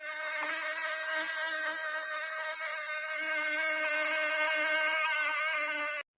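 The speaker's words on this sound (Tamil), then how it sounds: "யாத்தாடி, இது தேனி பூச்சி. ஐயோ, இது கொட்டிருமே." Honeybees hover close by, making one continuous, loud, high buzz with a steady drone. It holds unbroken for about six seconds and stops abruptly.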